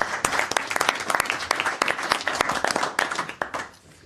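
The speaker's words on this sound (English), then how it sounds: "let's give a round of applause to Vicky and everyone else that helped out" Sustained applause from a crowd at a city council meeting, dense overlapping claps at steady loudness, tapering slightly near the end.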